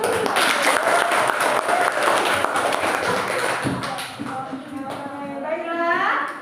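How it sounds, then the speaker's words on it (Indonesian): Classroom applause from a group of primary school pupils, a dense burst of clapping that fills the room, loud and sustained, thinning slightly toward the end. "kasih aplaus"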